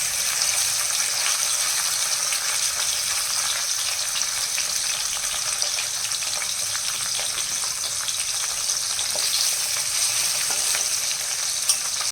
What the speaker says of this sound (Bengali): একটা কড়াইতে আগে পটল ভাজবো আর আরেকটা কড়াইতে মাছ ভাজা বসাবো